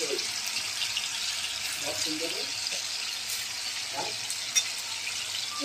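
Fish, scaled and cleaned, frying in hot oil in a pan: a steady, close crackling sizzle runs unbroken throughout, with a few soft kitchen clinks over it.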